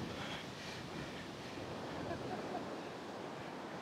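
Ocean waves wash onto the shore at Levera, Grenada as a steady, broad rush of surf mixed with wind noise, continuous and fairly loud throughout.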